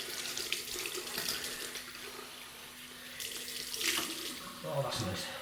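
Tap water runs steadily into a sink while rinsing after a cold water shave with a Yuma DE razor and Nivea Mild shaving cream, a continuous close splashing stream with small shifts in flow.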